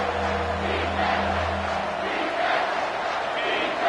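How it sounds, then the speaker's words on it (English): A college football stadium crowd roars during an OSU versus BC game on a third-down play, a loud, sustained wall of cheering and yelling that fills the whole stretch, with a low steady hum beneath it early on. "This crowd knows when to bring it."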